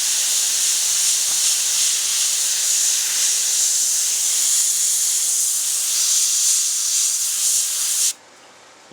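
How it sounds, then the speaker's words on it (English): Spray paint hisses in one long, loud, steady burst from close range as a pheasant taxidermy mount is coated, then cuts off abruptly near the end. "I'll be careful and spray around them."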